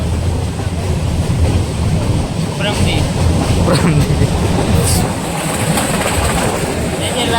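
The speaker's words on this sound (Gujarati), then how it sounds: "અત્યારે જંગલમાંથી ટ્રેન હાલે છે" Train running through a jungle near Junagadh, a steady low rumble and rolling rattle with wind buffeting the microphone, continuous and fairly loud with no clear talk.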